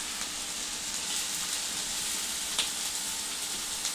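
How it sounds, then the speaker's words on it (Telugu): Onions and green chillies frying in hot oil for a Telangana-style egg curry: a steady, dense sizzle with scattered crackles and pops, close and continuous, no talking. "ఇవి గోల్డెన్ కలర్ వచ్చేంత వరకు వేయించుకోవాలి"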